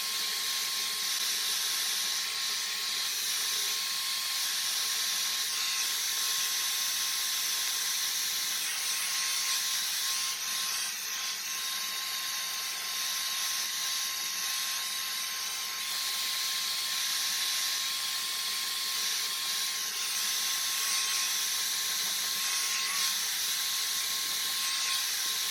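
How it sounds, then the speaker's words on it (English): Hair dryer blowing steadily while styling hair for a volume blowout, a constant close whooshing hiss with a thin high whine that runs unbroken for the whole stretch, no voices. "you do want to blow your hair in the opposite direction of the way that you want it to lay"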